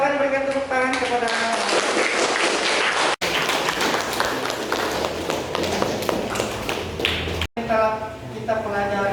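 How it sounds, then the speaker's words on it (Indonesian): A class in a teaching-practice lesson breaks into a burst of applause, brisk overlapping claps from many students filling most of the clip, with voices before and after and a couple of abrupt cuts. "silakan berikan tepuk tangan kepada"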